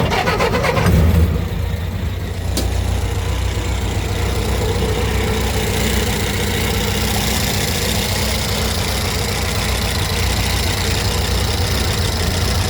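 A 1925 Ford Model T engine cranks with a brief, loud burst and catches within the first seconds. It then settles into a steady, close, chugging idle that runs on evenly with no voices.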